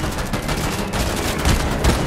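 Gunfire in the video game Fortnite Chapter 5, a dense, steady stream of rapid shots with a couple of heavier bangs near the end, loud and close.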